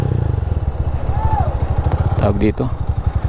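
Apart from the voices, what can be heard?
motorcycle engine revving during carburetor jet tuning test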